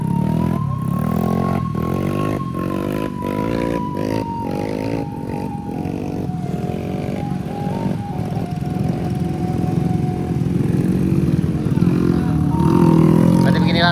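A motorcycle engine droning and revving on a challenging mountain road, loud and close, its pitch sliding slowly downward and then climbing again near the end, with wind noise alongside.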